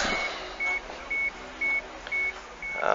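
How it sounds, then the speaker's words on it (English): A car's cabin warning beeper chimes in a steady series of six short even tones, about twice a second, over a low idle hum inside the vehicle. "You'll forgive the beeper."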